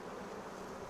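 Honey bees buzz in an open hive being brushed off the comb, a faint, steady, dense hum with no voices.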